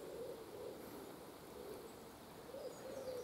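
A pigeon coos outdoors near trees, low soft repeated calls rising and falling over a faint steady background hiss, with no talking.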